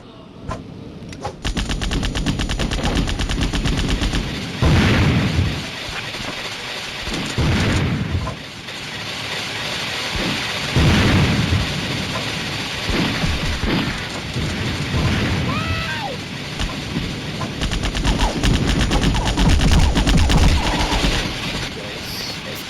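Dense gunfire from a shooting video game: rapid automatic bursts and sharp shots rattle on through the whole stretch, with loud peaks clustering around several moments over a constant noisy backdrop.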